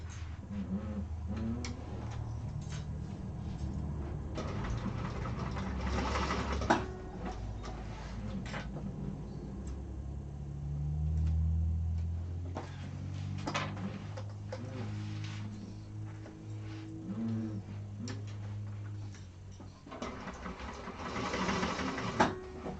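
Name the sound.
sewing machine basting fabric in place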